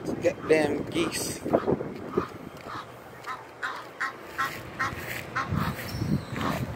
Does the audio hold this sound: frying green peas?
no